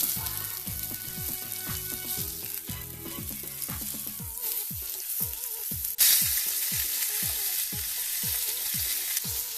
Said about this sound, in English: Faint wisps of smoke are coming out, so it's time to put the steak in.